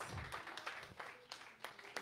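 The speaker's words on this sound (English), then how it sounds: "Clap for Jesus" Congregation clapping during a church prayer service, a quiet, uneven patter of hand claps at a steady loose rhythm, somewhat distant and faint, with a murmur of voices beneath.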